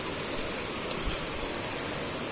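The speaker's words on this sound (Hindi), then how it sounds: "नदी की आवाज़ आपको सुनाई दे रही होगी" A jungle river rushing over rocks, a dense, steady broadband roar of flowing water, continuous and fairly close, with no voices.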